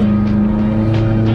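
Brief, loud roar of a 2020 McLaren 570S Spider engine revving hard from a standstill without launch control, heard inside the cabin, a sustained low growl with a faint voice underneath.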